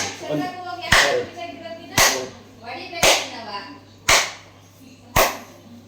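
Five sharp hand claps, made behind the back during a daily home exercise routine, ring out at steady one-second intervals, each a crisp close smack, with faint speech between them.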